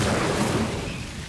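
The Incendio fire spell cast in the video game Hogwarts Legacy bursts out as a loud, broad whoosh-like blast that fades away over about a second, with no talking over it.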